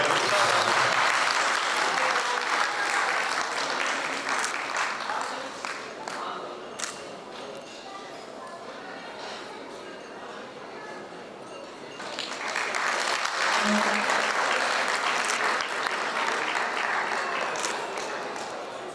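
Audience at a Rotary Club award ceremony bursts into loud, dense applause, which thins out midway with some voices talking, then swells again into strong clapping before tapering near the end.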